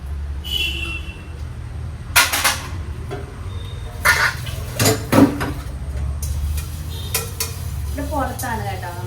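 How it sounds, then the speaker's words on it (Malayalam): Dishes and pots being washed outdoors, with scattered clinks and clatters of metal pans and utensils over steady background noise, and brief voices in the background. "പുറത്താണ് കേട്ടോ നമ്മളിങ്ങനെ പാത്രങ്ങളൊക്കെ കഴുകുന്നത്."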